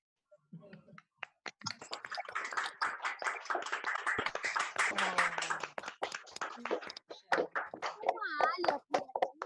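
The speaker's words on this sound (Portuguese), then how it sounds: "eles merecem todas as palmas" Applause from a small gathering at a live event, irregular claps building into a steady patter over several seconds before thinning into scattered final claps, with a voice briefly audible.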